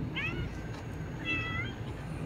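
A hungry mother cat meows twice, close and fairly clear, with a short pause between the plaintive calls and quiet background noise.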